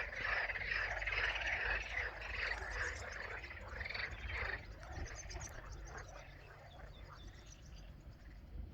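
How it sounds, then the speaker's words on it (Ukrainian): A chorus of frogs sings together outdoors in the bushes, a loud, dense mass of overlapping rhythmic croaks that thins and quiets halfway through, leaving scattered fainter calls. "Кілька жаб заспівало, і всі підхопили разом концерт."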